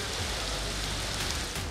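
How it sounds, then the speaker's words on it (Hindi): Heavy, continuous monsoon downpour, a dense steady roar of rain hammering surfaces with no pauses, loud and close for the whole stretch. "मानसून की मुसलसल मूसलाधार बारिशें"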